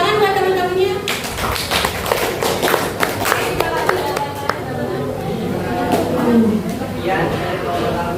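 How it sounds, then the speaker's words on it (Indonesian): Classmates applauding in a chemistry class, a dense stretch of clapping with sharp hand claps over steady room noise and some voices. "tepuk tangan buat teman-temannya."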